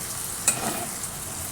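Tomatoes and onions with whole garam masala spices frying in a pan give a soft, steady sizzle. One brief clink or stir lands early, and no one is speaking.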